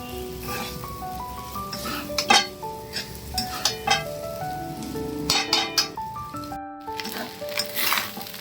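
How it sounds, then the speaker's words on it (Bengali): Rice is stirred and fried in a pan over full flame, with repeated metallic scrapes and clinks of a spatula over a continuous background sizzle. "ভাতটা দিয়ে খুব ভালোভাবে মিক্স করতে হবে। আর আঁচটা কিন্তু এই সময় একদম ফুল করা রয়েছে"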